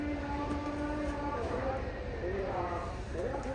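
A passing train rumbles along a railway track near village farmland, a steady rolling roar with a faint horn tone at moderate distance, while voices chant in the background.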